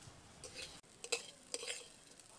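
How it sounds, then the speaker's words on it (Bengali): Soaked rice is stirred through hot oil in a pan for hilsa pulao, with quiet scraping strokes and a few sharp spoon clicks over a faint background sizzle. "এবার চালটাকে কিছুক্ষণ ভালো করে তেলের মধ্যে নাড়াচাড়া করে নেব"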